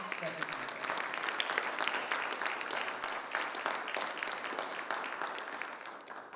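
Steady applause from a crowd at a Black History Month celebration, continuous clapping at moderate volume that holds evenly and tapers slightly toward the end.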